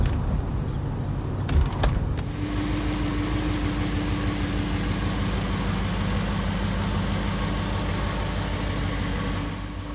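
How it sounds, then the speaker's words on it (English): A Triumph Stag car engine runs steadily at a low, even hum while driving, with a brief clatter of knocks near the start before settling into a constant drone. "Engine still going nice. Stag sounding really sweet."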